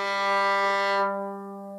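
A single note rings from the bottom string of a fiddle retuned to G for a zydeco blues tuning, sounding close and clear, then fading and sustaining quietly.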